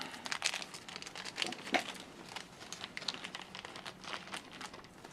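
Small plastic parts bag for a Tamiya shock kit being opened and handled, close, quiet irregular crinkling and rustling with scattered sharper crackles throughout, no talk.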